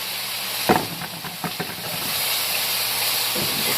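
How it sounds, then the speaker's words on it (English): Chopped meatless sausage pieces hit a hot pan already holding kale, sweet potatoes, onions and peppers, giving a few sharp clatters and then a steady loud hissing sizzle. "now I'm going to go ahead and add my chopped up sausage pieces"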